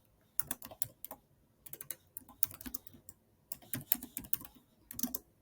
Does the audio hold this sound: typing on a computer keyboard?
yes